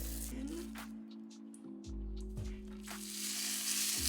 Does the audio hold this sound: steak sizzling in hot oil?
yes